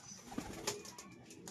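Pigeons in a loft, heard briefly and faintly as soft cooing with a flutter of wings close by, the whole moment lasting under two seconds.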